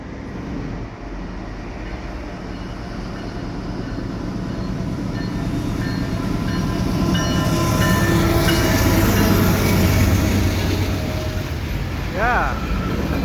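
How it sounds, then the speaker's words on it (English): A westbound CP freight train rumbles past Cedar Park station in fresh snow, the noise building toward the middle, with a brief squeal near the end; no talking. "I got a westbound train here at Cedar Park Station"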